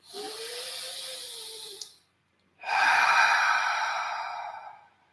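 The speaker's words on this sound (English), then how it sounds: "take a deep breath" A long, deep breath taken during a guided meditation: a steady inhale, a short silent pause, then a fuller, louder exhale that gradually fades, close to the microphone.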